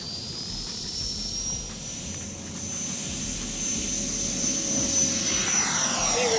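A Blackhorse Viper RC jet plane on its maiden flight whines overhead with a steady high turbine tone that slowly shifts pitch as it passes, growing slightly louder near the end.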